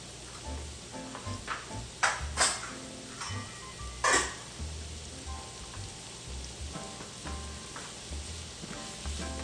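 A spiced mixture with Kashmiri red chili powder, salt and turmeric sizzles in a pan while being stirred, steady crackling frying with a few louder scraping knocks from the spoon against the pan.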